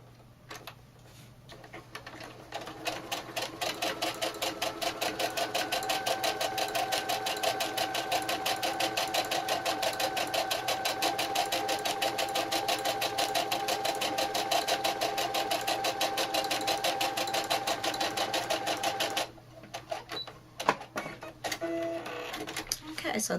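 A sewing machine stitches down the side of a clutch bag wristlet in a long, steady, rapid mechanical run before stopping, with a few clicks and handling noises afterward.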